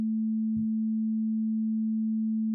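A plain sine-wave tone from the Serum software synth holds one steady, clean, low pitch with no change. It sounds alone, with a tiny soft bump near the start.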